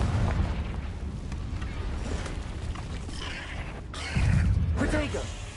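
A Confringo fire-blast spell explodes in Hogwarts Legacy with deep booming bursts against rumbling background noise, and a louder blast lands near the end.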